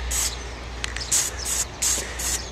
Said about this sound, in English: See how it's spitting it instead of spraying?